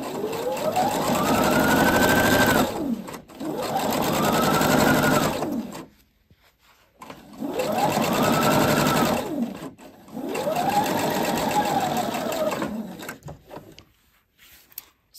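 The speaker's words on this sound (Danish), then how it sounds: "så syr jeg med en almindelig ligeud søm med kun en halv centimeter sømmerum" A domestic sewing machine runs a straight stitch through fabric with a narrow half-centimetre seam allowance, in four steady bursts of close, even whirring separated by short pauses.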